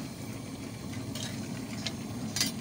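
A spoon stirs mutton curry seasoned with chili powder and salt in a pot, with a few scraping strokes over a low, steady background hum.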